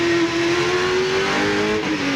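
A race car at full power during a 1999 Shell Championship race at Winton Motor Raceway, its loud, close engine holding a steady, sustained note that rises slightly in pitch without a break.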